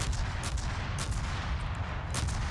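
Battleship main guns firing in World of Warships, a deep, heavy rumbling boom that fills the whole short moment, with a few sharper cracks on top and no voices.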